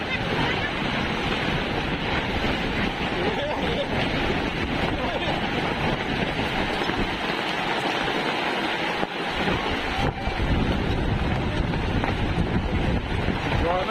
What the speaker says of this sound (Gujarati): જુઓ જેવો પવન જાય રહ્યો સાપરું વેરાઈ ગયું